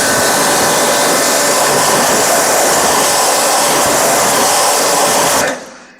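BTALI BT 1100 high pressure washer spraying a car wheel to blast off brake dust and mud, a loud continuous hissing spray and motor whine up close that cuts off abruptly near the end.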